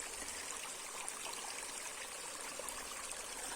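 Water spraying from a hose during a micro hydro test, heard as a steady, close, broadband rushing hiss that stays even from start to finish.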